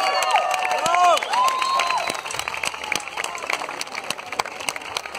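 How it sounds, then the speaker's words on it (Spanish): Audience at a university event applauds and cheers, dense clapping with shouts and whistles, loud at first and slowly thinning over about five seconds. "Un aplauso muy especial para Marco Quintana, por favor."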